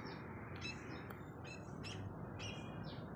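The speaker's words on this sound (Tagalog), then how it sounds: "May langgam nga Maya." A small maya sparrow chirps in short, bright bursts, several quick tweets spaced across a few seconds over a soft, steady background hiss.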